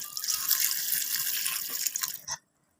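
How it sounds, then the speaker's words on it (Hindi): Water pours into a pressure cooker holding beef for a tinde gosht curry, a steady, close gushing stream lasting about two seconds before it cuts off abruptly into silence. "तो बस इसके साथ ही हम इसमें इतना पानी ऐड कर लेंगे कि हमारा जो बीफ का गोश्त है वो अच्छे से गल जाए"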